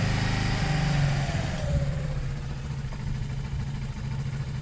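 A Zontes 125 motorcycle idles steadily while warming up after a fuel tank flush, its running a touch rich. The engine hum is close and continuous, with no talk over it.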